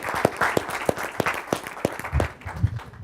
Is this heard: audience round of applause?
yes